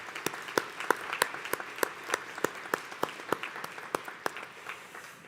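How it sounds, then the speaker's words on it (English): Applause at a community college commencement ceremony honoring a part-time faculty award winner: steady crowd clapping with a few sharp, prominent individual claps standing out at a regular beat over the softer wash. "we want to give her a round of applause"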